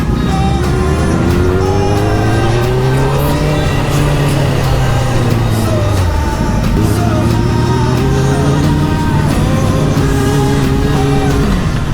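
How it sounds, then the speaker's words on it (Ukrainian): A motorcycle, either a Honda CBR600F4i or an Indian Scout 1200 on a road ride, pulls away with a loud, steady engine note that rises and falls through several gear changes, close by with no talking. "Ну що, я свого мопеда заправив, можна їхати."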